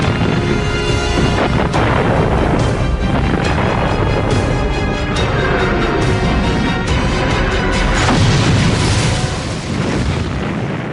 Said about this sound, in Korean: 전함들은 육지의 소련군을 향해 대포를 발사했습니다.